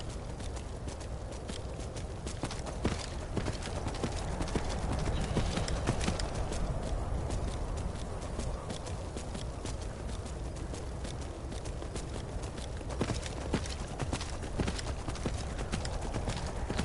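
The horse Arvak's hooves clip-clop steadily in Skyrim, a loud, continuous run of close hoofbeats with a faint whinny mixed in.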